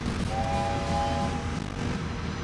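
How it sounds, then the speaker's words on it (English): Train passing in the video game Wobbly Life, a dense continuous rumble with a brief tonal whistle-like hum near the start, steady and fairly loud with no talk. "Oh, here's the train."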